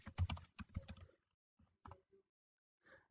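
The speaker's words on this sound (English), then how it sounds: "If you just type in Recaptcha" Typing on a computer keyboard, a quick burst of sharp key clicks followed by a few scattered taps after short pauses, close and quiet with no talking.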